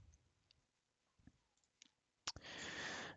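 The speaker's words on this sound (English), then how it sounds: "and we'll click Finish." A single sharp computer mouse click stands out against a quiet room, followed by a brief soft rush of noise.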